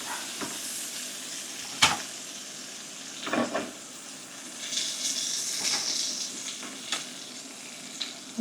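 A reverse-seared steak sizzles on a hot cooking surface, a steady close frying hiss and crackle with several sharp pops and brief bursts of louder spitting throughout.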